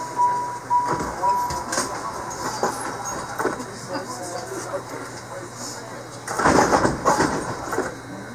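A MARTA train rolls toward Airport station with a continuous rumble and rail hum inside the car. A recorded voice speaks over it, and a louder burst of rolling noise swells near the end.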